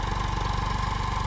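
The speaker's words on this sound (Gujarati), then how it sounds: "બાબુલાલ ટ્રેક્ટર હાંચી રહ્યા છે, જોરદાર દબણ કરી રહ્યા છે ચેઢાની," A tractor engine works a field being readied for wheat sowing, a steady close throbbing drone with an even pulse and no pauses.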